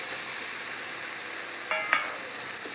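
Fried potatoes are stirred through a thick spice masala in a pan, giving a soft, even sizzle with a couple of quick scraping clinks of the spoon near the end.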